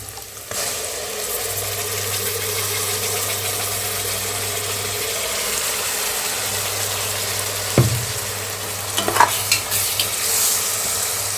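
Ground spice paste of fennel, cumin, pepper and cinnamon sizzles steadily in a pan for a country chicken curry, a continuous frying hiss with a few sharp clinks of a spoon near the end.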